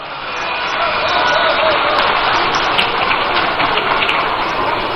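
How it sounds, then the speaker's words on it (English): Broad applause from a large crowd at an NDC party manifesto launch in Ghana, swelling after a moment and holding steady as a dense, rain-like wash of clapping. "A round of applause for him."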